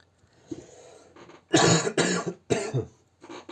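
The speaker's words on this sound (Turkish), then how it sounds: "Çok özür dilerim ya bu öksürüm yüzünden." A burst of harsh, close coughs, with a clear pause between the main fits and a throat-clearing quality, from someone narrating mobile game patch notes. The coughs are loud and come with no talk.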